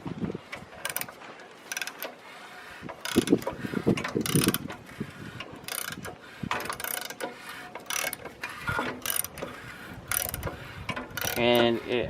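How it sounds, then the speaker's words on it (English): Wrench turning a locked-up tiller engine, giving a series of ratcheting clicks and metallic mechanical clunks in irregular bursts, fairly faint and close, with no talk. "put the wrench back on it, and we'll just verify that it's still stuck"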